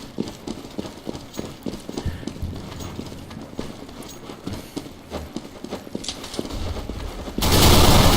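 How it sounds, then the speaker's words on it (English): Bursts of machine pistol fire ring out in CS:GO on the de_dust2 map during a match, rapid shots scattered among other gameplay clatter, swelling into a loud noisy wash at the end. "LKS firing off that little machine pistol"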